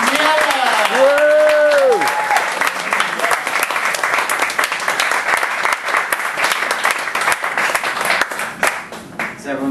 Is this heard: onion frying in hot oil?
no